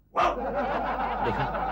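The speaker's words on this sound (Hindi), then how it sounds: "कुत्ता हमारे घर में भौंक रहा है।" One close dog bark that stretches into a drawn-out, whining howl, heard alone.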